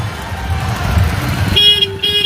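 Road-show convoy of about fifty cars on a political campaign route in Maharajganj, with steady engine and traffic rumble, then a sustained horn blast that starts partway through and holds to the end.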